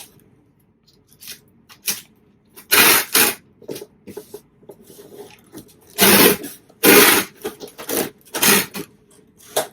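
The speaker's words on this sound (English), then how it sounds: "Warning tape noise." Packing tape is ripped off a roll in several loud, rasping pulls, separated by quieter rustling and handling noises.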